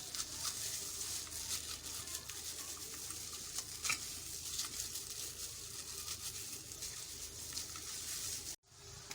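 Potatoes and spices being sautéed in a pan for aloo bhurta, with a steady soft sizzle and scraping stirring running throughout, close and moderately quiet, stopping briefly near the end.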